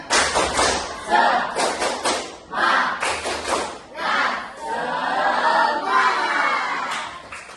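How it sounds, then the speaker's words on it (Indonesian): A classroom of students performs a rhythmic spirit clap, bursts of loud group clapping in patterned beats with some shouts, followed by sustained cheering and clapping toward the end. "Tepuk semangat."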